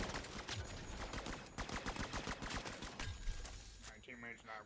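Rapid automatic gunfire in The Finals, a fast rhythmic stream of close, loud shots that breaks off and resumes, with a voice speaking over the end.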